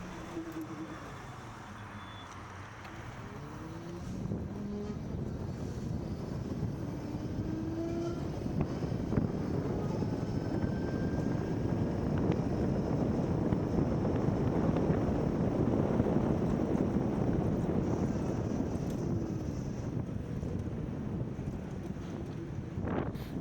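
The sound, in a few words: electric motorcycle riding in town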